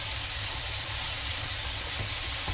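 Potato balls for Aloo 65 frying in hot oil, a steady, even hiss of sizzling that holds level throughout, with a couple of faint clicks near the end and no voices.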